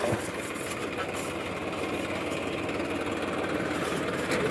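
A tractor engine runs at a steady idle, giving a continuous, moderately loud mechanical drone with a low rumble and a faint knocking texture that holds evenly throughout.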